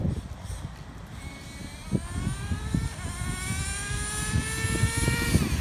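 A Traxxas T-Maxx Pro 15 RC truck's nitro engine runs at high revs, a buzzing whine that climbs in pitch across the stretch with rough rumbling underneath, close and steady, no voices.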